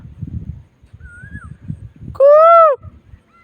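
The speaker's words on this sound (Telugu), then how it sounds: "ఆ పక్షి కావాలని అరుస్తుందో ఏమో కానీ వినపడుతుందా పక్షి వాయిస్?" A single loud, honking bird call rings out after a fainter whistled note, over a low rumbling background.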